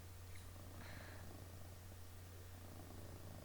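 A soft, steady cat purr hums continuously at close range, low and quiet, with no other sounds.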